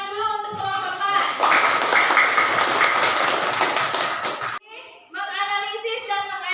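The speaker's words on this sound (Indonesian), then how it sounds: "Tepuk tangan dulu untuk kelompok 4." Children in a classroom clap for a student group, a burst of brisk, fairly close applause that stops abruptly, with the children talking and calling out before and after it.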